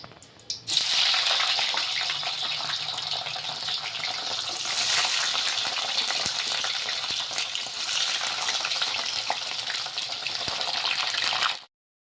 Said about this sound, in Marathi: आता हे पनीर आपण पहिले तळून घेऊया